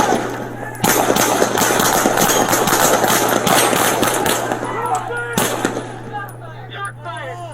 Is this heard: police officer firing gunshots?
yes